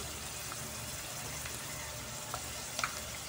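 Onions sauté in a pan with a soft, steady sizzle, fairly quiet, with a couple of faint stirring clicks near the end; no speech.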